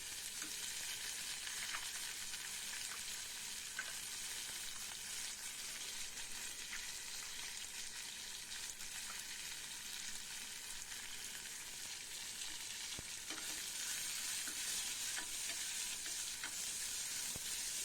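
Onion, curry leaves and coriander sautéing in a pan for bitter gourd tamarind curry (pavakkai puli kulambu), a steady soft sizzle with faint stirring running unbroken throughout, no talk.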